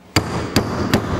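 Three sharp hammer blows knock the wheel studs out of a brake disc from a Nissan President H252, each strike ringing briefly, evenly spaced and close, with no talk.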